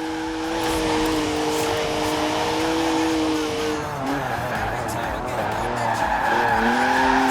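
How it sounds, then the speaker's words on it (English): A rear-wheel-drive BMW drifting in the racing game Forza Horizon 4, its tires squealing in a loud, sustained, wavering screech over the engine for the whole stretch. "It's a BMW, so of course it's rear-wheel drive. 50-50 weight distribution too. It's a natural-born drifter."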